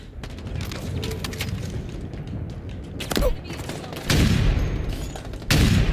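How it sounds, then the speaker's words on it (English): Gunshots in the video game Halo Infinite, a run of quick shots followed by several heavy, booming sniper rifle blasts, loud and close, with a voice briefly heard between them. "I missed three shots"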